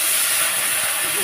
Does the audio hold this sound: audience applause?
no